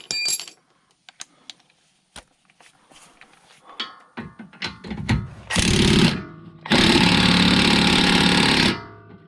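An impact wrench loosens a very tight bolt on a Mazda RX8. Scattered metallic clanks and handling noises lead up to two loud, close bursts of hammering, the second one long and sustained.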